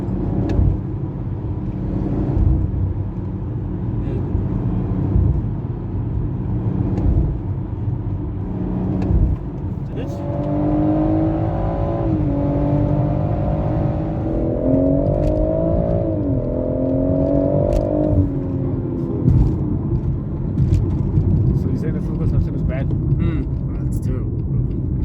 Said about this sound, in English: I get that extended burble by just holding on the accelerator for just a bit longer